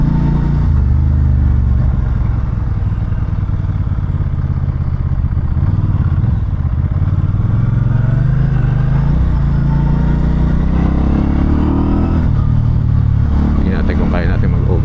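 A BENDA motorcycle on a test ride roars loudly and steadily, engine pitch rising as it accelerates, with heavy wind buffeting throughout and a rider talking over it.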